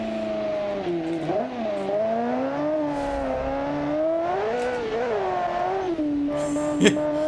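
A 1300 HP drag car engine in BeamNG.drive revs continuously with a rising and falling harmonic drone, loud and steady throughout.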